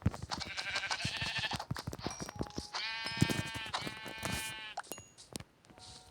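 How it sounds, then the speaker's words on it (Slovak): Minecraft sheep bleat several times in quick succession near a spawner in a village, wavering and nasal, with clicking game sounds between calls and no talking. "Takže už vieme, kde sa spawnujú ovce."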